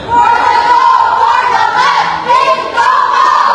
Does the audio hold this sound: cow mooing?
no